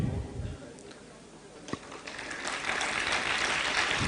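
Applause from an audience at a Human Rights Day program starts quiet, then swells into fuller, steady clapping in the second half, with a single sharp knock midway.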